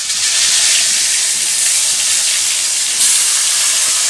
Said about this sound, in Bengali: এবার তেলটা গরম হলে আলুগুলো ভেজে নেব